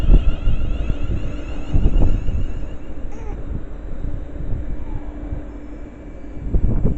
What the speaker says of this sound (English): 1325 London Festival service from Trin to London Euston, worked by 35106